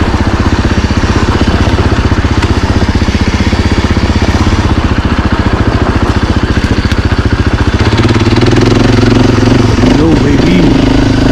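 A 2024 Husqvarna FE450 dirt bike on its stock exhaust runs loud and close, with a steady buzzing engine note that shifts in pitch near the end.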